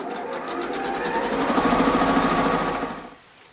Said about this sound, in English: I think I'm going to go ahead and start sewing on this third block here.